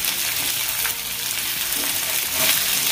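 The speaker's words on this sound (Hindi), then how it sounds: "ब्राउन होने तक मैं भूनूंगी" Pointed gourd (parwal) and onion fry in a pan with a steady, loud sizzle, while stirring adds soft scraping and shuffling throughout, with no talk.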